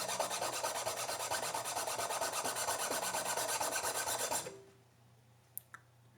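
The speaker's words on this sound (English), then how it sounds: "I need to clean this saddle up. And I'm going to do that with a file." A guitar saddle rubbed back and forth on a large file, giving steady, close rasping strokes for about four seconds before stopping, followed by a couple of faint taps.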